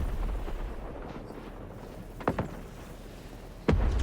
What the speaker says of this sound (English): he's shooting all those rockets